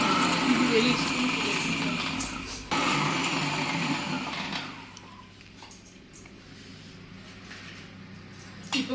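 A mixer grinder whirs loudly grinding dried red chillies and curry leaves for idli podi, a steady motor roar that fades to a quieter hum, with a voice talking over it.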